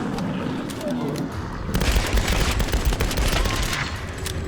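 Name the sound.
gunfire in the video game Tomb Raider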